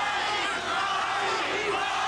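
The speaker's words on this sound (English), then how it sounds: "And here's the crowd again, chanting for Chacon." A boxing arena crowd chants for Bobby Chacon during his rematch with Cornelius Boza-Edwards, a steady, loud wash of massed voices that holds without a break.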